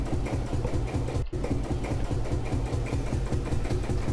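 A tractor engine idles in the Farming Simulator 2013 video game, giving a steady, rhythmic, throbbing mechanical chug at moderate loudness, with one brief dropout and no voices.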